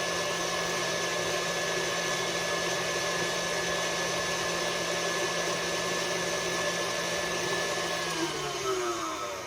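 An electric hand mixer beating blueberry muffin batter at a raised speed, giving a loud, steady motor whir that holds throughout and dips slightly in pitch near the end.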